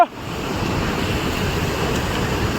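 Teesta and Rangeet rivers rushing together below a long bridge, a steady broadband roar of flowing water mixed with wind buffeting the microphone, continuous and fairly loud with no voices.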